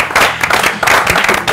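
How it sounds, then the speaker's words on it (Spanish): Studio audience at a television programme's 100th show applauding, a loud dense burst of clapping heard close and filling the whole moment. "Disculpen el exceso de aplauso de arranque"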